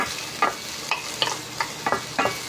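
Ginger and garlic fry in hot oil in a pan, a steady sizzle under regular scraping stirs that land about twice a second, close and alone without any voices.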